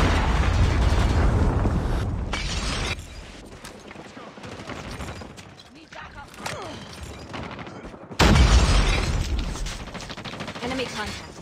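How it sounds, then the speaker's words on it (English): Explosive blasts and heavy gunfire from a predator missile strike in a Call of Duty Mobile 10v10 match, loud bursts at the start and again near the end with quieter battle noise between, voices over the action. "hostile predator missile inbound"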